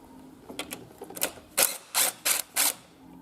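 Ratchet loosening a 14 mm nut on the exhaust manifold of a Mazda CX-7 / Mazdaspeed turbo engine: after soft scattered clicks, four loud close ratcheting bursts in a steady rhythm, with no talking.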